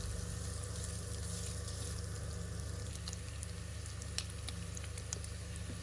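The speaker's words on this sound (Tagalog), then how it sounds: "Ayan, mag-gisa po muna tayo ng beef." Boiled beef sizzles steadily in a hot pan with garlic and onion, a constant close frying hiss broken now and then by small crackles and pops, with no talking over it.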